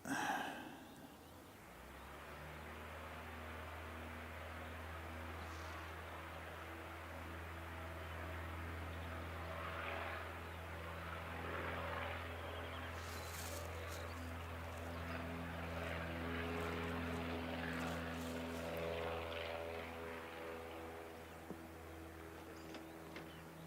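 Dash 8 turboprop airliner on the runway at an airport in a strong nor'wester, a steady droning propeller hum with layered engine tones that swells and holds for over twenty seconds, distant but constant, with no talking.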